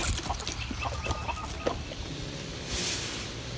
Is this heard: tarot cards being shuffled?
no